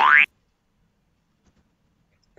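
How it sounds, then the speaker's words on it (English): Cartoon boing sound effect for a bouncing ball, a single short rising spring twang at the start followed by silence. "So the ball will simply make Boing sound here."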